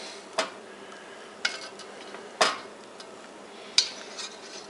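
A spoon scraping and clinking in a pan while basting meatloaf with grease: four sharp, separate metallic taps spaced about a second apart over a faint, quiet background.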